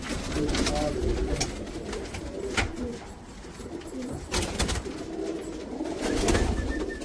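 Pigeons coo in a loft in America, a steady low murmuring layered from several birds, with occasional brief louder bursts, fairly close and continuous throughout.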